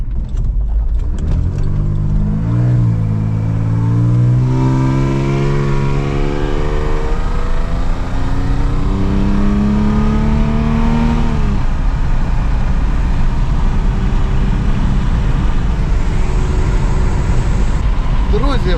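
Audi A6 engine with a leaky exhaust flex pipe idling and revving up and down, with a raspy, hissing exhaust note, loud and close, steady roar throughout.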